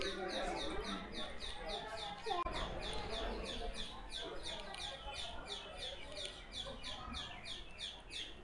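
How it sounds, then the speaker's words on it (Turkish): Birds chirp in quick repeated bursts outdoors in Delhi, India, fairly steady throughout, with people talking underneath. "Ay kuşların sesleri."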